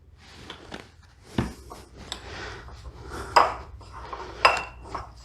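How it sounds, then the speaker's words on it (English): A spoon scraping and knocking against a bowl while a breadcrumb filling with olive oil is mixed for beef braciole, with irregular close clinks and scrapes and no talking. "And just kind of mix that all together."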